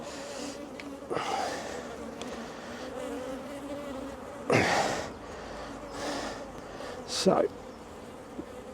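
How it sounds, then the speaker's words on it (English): Honeybees buzz around a busy hive during a spring inspection, a steady close drone with a few louder passes, while a person speaks briefly. "Right, this is very busy, this hive."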